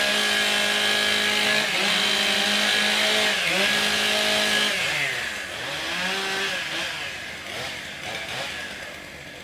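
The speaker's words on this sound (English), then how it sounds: "Warm up your saws." Two chainsaws rev and idle together at a professional timbersports championship in Canada, a loud continuous engine whine that rises and falls in several throttle sweeps, with a faint announcer voice underneath.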